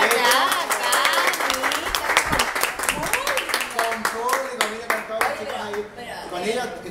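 An audience applauds during a live show, with individual sharp claps standing out in a fairly steady patter that thins near the end, while voices talk over the clapping.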